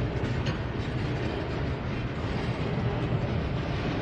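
A freight train rumbles past at Bevier St. Yard in a continuous, loud, close roar with rattling undertones and no pauses.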